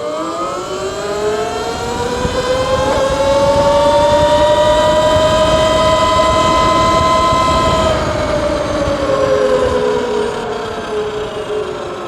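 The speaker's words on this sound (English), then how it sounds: "So I go easy on the throttle to start and then hit it." An E-Ride Pro SS electric motorbike accelerates at full throttle, its loud, close motor whine climbing steadily in pitch with layered harmonic tones and wind rush, then briefly easing before rising again.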